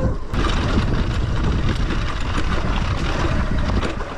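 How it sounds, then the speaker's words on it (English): A 2022 Sur Ron X electric dirt bike plows through a water crossing, making a loud, continuous broadband rush of splashing water and wind buffeting close to the microphone. "why not start with a little water crossing here?"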